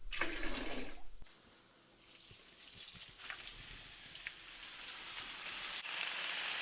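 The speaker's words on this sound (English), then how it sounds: "let's go and put a little bit of oil in the pan and get them down" Frozen hash browns sizzle in hot oil in a pan, a steady close hiss and crackle that starts loud, drops away briefly, then builds back into a continuous fry.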